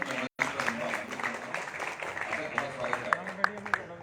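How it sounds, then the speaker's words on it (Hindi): Audience applause greets AIMIM chief Asaduddin Owaisi at a televised Uttar Pradesh political conference, a moderate, steady spatter of claps lasting about four seconds with a few sharper individual claps standing out, broken by a brief dropout near the start. "असदुद्दीन ओवैसी साहब का तालियों के साथ स्वागत कीजिए"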